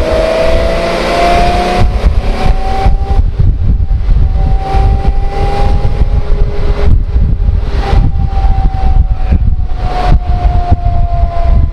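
A 1967 Mercedes-Benz 280 SL Pagode, W113 series, drives and accelerates, its loud engine droning steadily with a slowly rising pitch under heavy wind rush and road noise.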